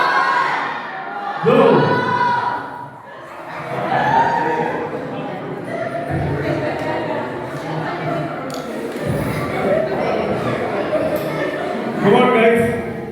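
Children cheer and shout loudly during a counted-down race at a vacation Bible school event, with bursts of excited crowd noise and an adult voice talking over them throughout.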